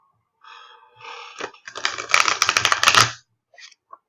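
An oracle card deck being shuffled by hand, with soft riffling rustles that build into a dense burst of rapid, crisp card flicks for about a second, then quick faint taps as the cards settle.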